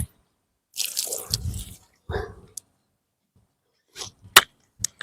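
Water drips and splashes in short bursts as someone washes their mouth, with a few louder splashes and sharp drops separated by quiet gaps.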